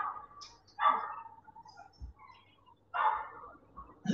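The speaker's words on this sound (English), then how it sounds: "he has to stay there and bark until the handler comes to him to reward him" A search and rescue dog barks in short, separate bursts, two or three sharp barks spaced about two seconds apart, fairly close in a quiet setting.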